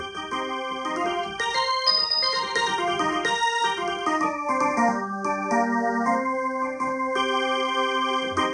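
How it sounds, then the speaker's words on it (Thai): Organ voice played on a Pastel Siamkey1 keyboard for Isan mor lam music, a sustained, loud melodic line of held chords and shifting notes running continuously without speech. "เสียงก็คือออแกน"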